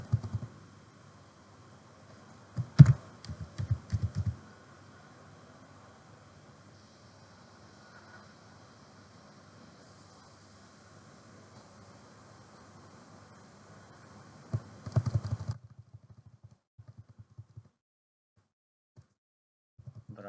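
Keys clacking on a computer keyboard while Python code is typed, a burst of quick taps near the start and another around the middle, close and fairly quiet over a faint background hum.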